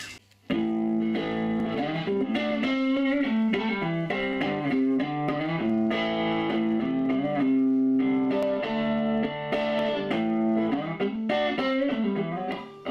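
Electric guitar played through a modified Crate V5 amp on a clean setting, tone at 5 and volume at 3, with chords and single notes ringing out steadily and close for the whole stretch.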